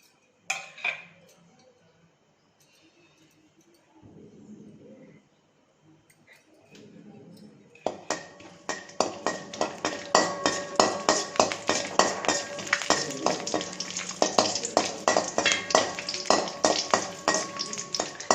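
Whole cinnamon, star anise and cloves dropped into hot oil in a pan, a bright continuous sizzle and crackle that bursts in suddenly after a few soft clinks and handling noises and stays loud.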